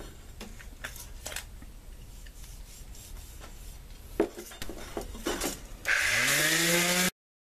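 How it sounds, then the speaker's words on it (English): A Lamson cleaver blade made in USA being ground, with scraping, rasping strokes and scattered clicks that build into a loud, sustained grinding whine near the end, close and alone without speech. "Now I gotta clean it up and do a little more grinding on it."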